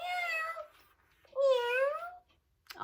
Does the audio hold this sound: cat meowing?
yes